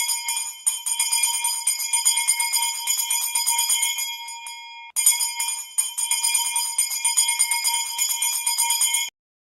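Salvation Army bells ring in a bright, steady jingling run that pauses briefly near the middle, then resumes until they stop abruptly, heard clearly with no talking.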